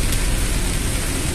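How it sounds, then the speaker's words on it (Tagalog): Heavy rain pouring down at the Caticlan port area in the Philippines, a dense, loud, unbroken wash of noise with no pauses, close by and with no voices. "Grabe ulan."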